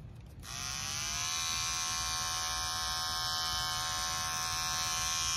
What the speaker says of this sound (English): So this is the trimmer, and this is the sound.